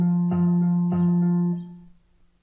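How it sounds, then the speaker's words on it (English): A sustained guitar note rings with piano notes struck on the beat over a soft metronome in the background. The notes decay away quickly in this short phrase. "we added a guitar sound to the half notes and a piano sound to the 8th notes"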